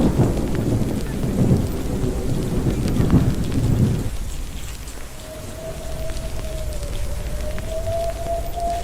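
Heavy rain from a raging thunderstorm in Yunnan, China pours steadily with low rumbling for the first few seconds, then a dense hiss of rainfall continues alone under a faint, steady tone.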